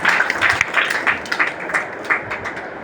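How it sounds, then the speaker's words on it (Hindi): A college audience at a Hindi department event claps briefly to welcome the principal, scattered and fairly soft, a few seconds of applause with no talk over it. "सर का तालियों से स्वागत"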